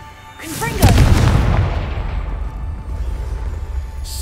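A Confringo blasting spell goes off in the Hogwarts Legacy game, a sharp crack that swells into a deep booming explosion and rumbles away over a few seconds; a voice sounds faintly beneath it.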